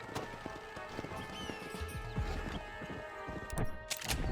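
Horse galloping in the Red Dead Redemption video game: a quick, steady run of hoof clip-clops close by, continuing through the whole stretch with a brief louder burst near the end.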